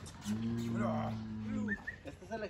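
A bull on a cattle ranch gives a deep, drawn-out moo lasting over a second, close and clear, followed by faint background bird chirps and small noises.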